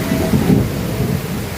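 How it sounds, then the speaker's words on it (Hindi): Heavy rain pours down outside an SSC exam center in Bokaro during flooding, a steady loud wash of noise with low rumbling thunder underneath, continuous throughout. "खतरनाक बारिश हो रहा है, सेंटर के बाहर देख सकते हैं यहाँ बाढ़ आ चुका है पूरा।"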